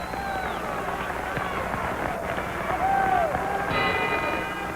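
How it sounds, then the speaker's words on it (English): Final bell ending a middleweight boxing match at Madison Square Garden, a few short tonal rings rising over a steady roaring arena crowd with commentary underneath. "There's the final bell of a good fight here at Madison Square Garden."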